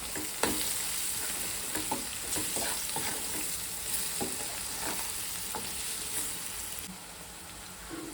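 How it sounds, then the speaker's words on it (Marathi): Roasted val beans sautéing in a pan with turmeric and salt, a continuous soft sizzle broken by repeated scraping stirs of the spoon, close and moderately quiet, with no voices. "चांगलं परतून घेऊया"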